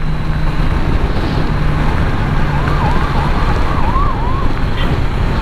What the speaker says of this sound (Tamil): இப்போலாம் அதிகமாக சைரன் கேட்குது